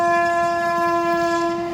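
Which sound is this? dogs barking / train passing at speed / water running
train passing at speed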